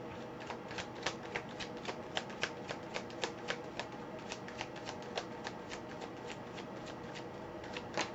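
Tarot cards are shuffled close by in a quick run of crisp, flicking riffles and soft slaps, with the rhythm holding steady for several seconds and no voice.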